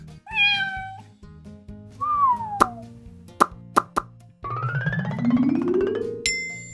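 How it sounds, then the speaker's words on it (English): A clear, high cat meow rings out at the start, then playful cartoon plops, boings and a rising slide sound over cheerful background music. "A cat!"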